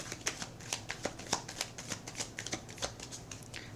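Tarot cards being shuffled by hand during a reading, a quick run of crisp riffling snaps and soft slides repeating in an uneven rhythm, close and fairly quiet, with no talking.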